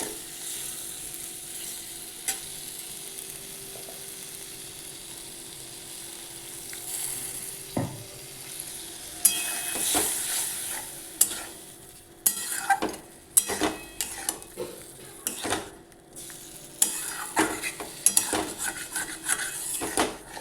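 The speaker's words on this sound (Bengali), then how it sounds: "ভালোভাবে মশলাটাকে কষে নেব।" Bengali masala paste, moistened with a little water, sautés over low gas in a pan for a vegetarian hing aloo dum. A steady soft sizzle runs throughout, with a cluster of sharp scraping stirs in the second half.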